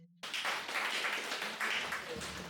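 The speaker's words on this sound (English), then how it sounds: "Can you just give them a round of applause, please?" An evening audience at a community event breaks into a round of applause, dense continuous clapping close and fairly loud for a few seconds.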